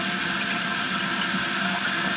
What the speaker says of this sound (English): Tank is filling.